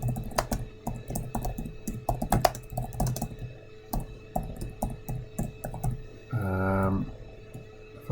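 Keys clatter on a computer keyboard as an SQL query is typed, in quick irregular bursts and single taps, close and clear, with a short hum near the end.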